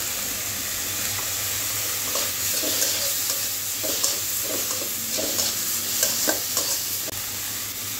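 Small shrimp frying in a pan with turmeric, ginger paste and green chilli, a continuous bright sizzle with intermittent stirring scrapes throughout.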